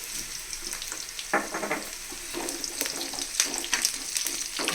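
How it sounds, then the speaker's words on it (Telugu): Mustard seeds frying in hot oil in a pan, a steady close sizzle broken by repeated sharp crackles and pops as the seeds splutter, with no voices. "చక్కగా ఇప్పుడు ఆవాలు"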